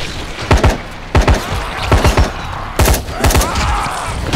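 Gunfire in the zombie action game Dying Light: several loud bursts of rapid shots in clusters, close and punchy, separated by brief pauses over a noisy background.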